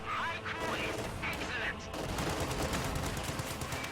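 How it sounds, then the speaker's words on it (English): An M1919 machine gun fires from inside a building at a half-track and anti-tank guns in a strategy game, a continuous rattling burst of rapid shots amid ongoing battle noise. "M1919 firing from inside this building on the half-track and anti-tank guns"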